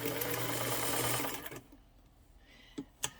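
A 1927 Singer 99 sewing machine with a knee lever and domed top runs steadily for about a second and a half, then stops, leaving near silence broken by two short clicks.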